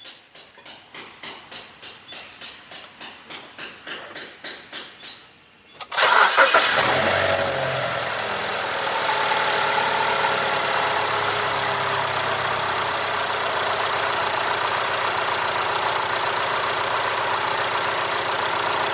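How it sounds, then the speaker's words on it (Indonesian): A BMW engine is cranked on a battery that has been in use for over three years. The starter grinds in a rapid, rhythmic churn for about five seconds, then the engine catches with a loud surge and settles into a steady, close idle. "Sekarang kita coba crank test ya."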